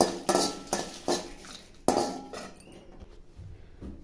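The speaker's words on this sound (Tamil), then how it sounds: "மிளகாயை வறுத்துக்கலாம்." Metal utensils clink and scrape against a pan while dried chillies are roasted for a kulambu, a few sharp close knocks followed by softer stirring, with no talking.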